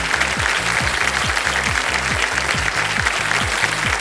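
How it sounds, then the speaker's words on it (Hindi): A studio audience on a television quiz show applauds in a dense, steady wash of clapping, loud and sustained throughout, with a rhythmic low musical beat underneath. "जनता ने आने से पहले ही ताली बजा दी"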